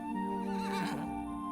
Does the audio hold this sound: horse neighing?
yes